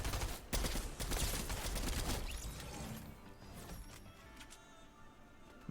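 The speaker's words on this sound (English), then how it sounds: "I'm still hearing gunshots." Gunfire in the video game Fortnite rattles as a loud burst of rapid shots, then fades into sparser, quieter distant pops.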